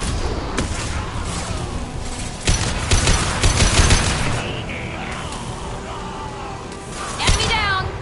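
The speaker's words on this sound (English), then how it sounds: "Firing an impact shot!" Impact shot gunfire in Mass Effect 2 cracks out in heavy bursts, loud and near, with booming reports and mechanical clatter. Voices talk and shout over the shots.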